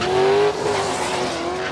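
Drag race cars at Palmyra Raceway roar loudly and continuously, engines revving high with a sustained rising note that drops after the first half second, the racing din filling the whole stretch.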